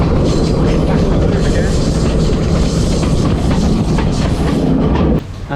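A train rolling along the tracks in Sri Lanka, a loud steady rumble with rhythmic clickety-clack of wheels, close and continuous, cutting off abruptly near the end.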